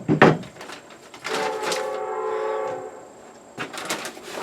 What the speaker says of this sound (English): I love the sound of the train off in the distance.